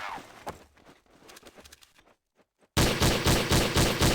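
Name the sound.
G3 auto sniper rifle gunfire in video game Counter-Strike: Source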